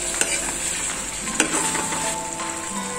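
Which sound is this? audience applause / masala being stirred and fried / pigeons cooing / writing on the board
masala being stirred and fried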